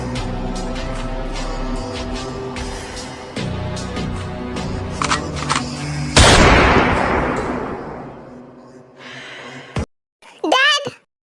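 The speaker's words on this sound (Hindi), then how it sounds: "फिर जिन आदम से उसका बंदूक छीन लेती है और आदम को शूट कर देती है।" A sudden loud gunshot effect bursts into a Hindi-dubbed drama scene, cutting through music and dialogue and then decaying into a long ringing tail before brief voices return.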